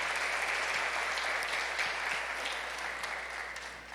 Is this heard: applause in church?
yes